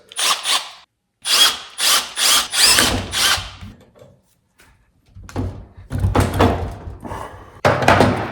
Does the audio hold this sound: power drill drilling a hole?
yes